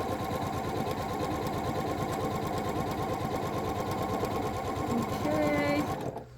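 A sewing machine stitches a pieced quilt seam with a rapid, even needle rhythm at close range, with speech heard near the end.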